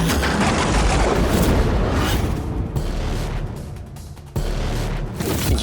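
A loud explosion boom with deep rumbling low end, sustained roar and a second burst near the end, standing alone without talk.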